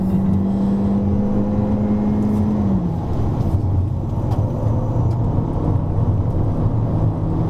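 A Honda Civic RS cornering fast on the Sepang circuit, heard from inside as a loud, steady engine and road drone with a sustained engine tone that drops in pitch partway through, no talking.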